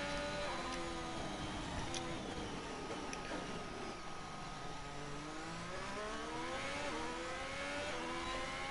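A race car engine revs and whines with shifting pitch in F1 2021 at Austria, the tone climbing and dropping steadily as it rises and falls through the gears, heard as continuous in-game engine noise.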